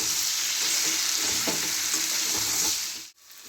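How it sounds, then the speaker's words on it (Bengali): Spice masala with soaked chickpeas frying in a pan for a Bengali vegetable side dish, a loud steady sizzle with stirring that cuts off abruptly near the end. "দিয়ে ভালো করে মশলাটাকে কষে নেব।"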